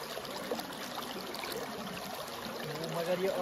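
Cold stream water flows steadily beside an outdoor spot where chicken is being cooked, a continuous rushing hiss at moderate level with no breaks.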